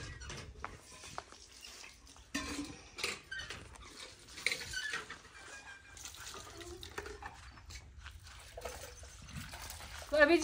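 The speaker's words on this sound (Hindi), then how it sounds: "मैं धो रही हूँ यहाँ पे बर्तन" Dishes are washed by hand under running water outdoors in the evening, with faint splashing, trickling and light clinks of pots and pans that come and go, and someone speaking at moments.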